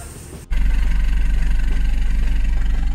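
A modified Mini JCW engine fitted with a changed downpipe and added resonator starts up, then idles with a loud, steady, deep droning rumble that continues without a break.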